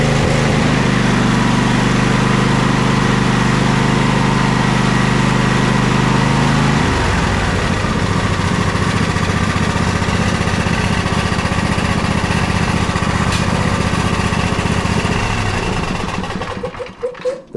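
A two-cylinder riding mower engine runs steadily, a loud rough drone with a heavier low rumble in the first seconds, then an even chugging idle that fades out near the end.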